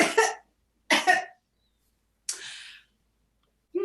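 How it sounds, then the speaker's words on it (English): A woman coughing in short bursts: two quick coughs close together, a pause, then a breathier cough, and the start of another at the end, near and clear with no other sound. "And nothing came out, and she kept continuing to cough."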